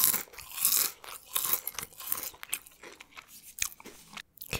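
Potato chips crunched and chewed close to the mic during a soft-spoken eating session, with dense crisp bites and mouth sounds packed together in a steady, busy rhythm and no talking over them.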